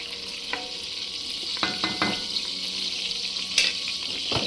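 Melted fat for mac and cheese sizzles steadily and loudly in a pan, with a few clinks and scrapes of a utensil over the continuous hiss and no talking.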